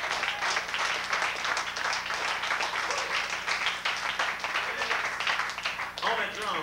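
Crowd at a live blues show applauding the bass guitarist, dense continuous clapping mixed with cheering voices, loud and close, running the whole stretch.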